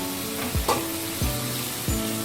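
Achari chicken fries under a lid in a pan, giving a steady close sizzle with a few dull knocks or clanks of the lid and utensil and no talking.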